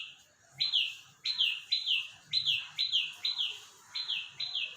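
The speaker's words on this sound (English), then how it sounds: "When it is grown, it attracts the birds also." Birds chirp on a home garden rooftop terrace full of potted and hanging plants, a steady run of about ten bright, short calls repeating at an even pace, close and clear over a quiet background.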